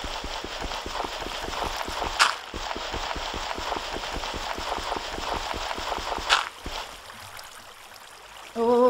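Water draining away in a modded Minecraft world makes a steady, fairly quiet rushing and bubbling flow with a fast rhythmic pulse, broken by two brief louder swishes before fading near the end.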